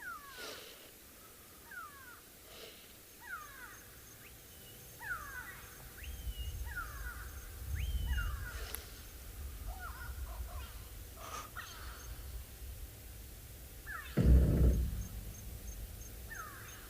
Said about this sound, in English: You can hear all the great go-away birds around us, alarm calling